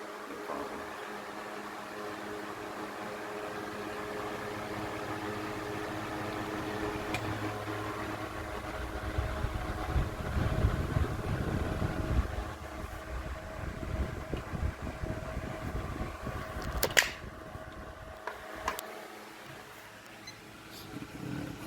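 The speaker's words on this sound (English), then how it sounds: "Really good sleeping fans, in my opinion. They're really quiet, even on high speed." Box fan DB-100 running on high speed, a steady, fairly quiet broadband whoosh with a faint motor hum that holds continuously throughout, with a few brief knocks and handling sounds near the end.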